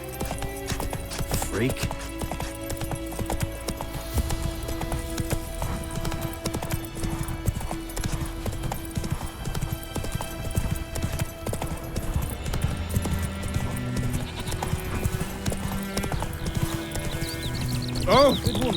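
In The Witcher 3 video game, a horse gallops in steady, rapid hoofbeats with clopping rhythm throughout, under game music and effects, with a brief neigh and a short spoken word.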